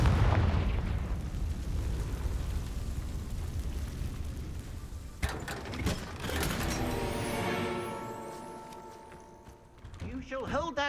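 A Confringo blasting spell bursts in the Hogwarts Legacy video game, a loud rumbling explosion under dense game noise, followed by ringing, shimmering magical tones and crackle.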